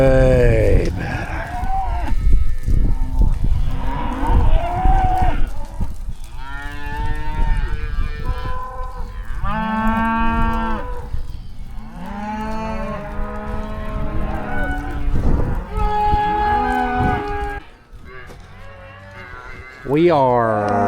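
Cattle low repeatedly while being moved, a run of near and mid-distance moos with long drawn-out calls overlapping one another, heard alone without talk.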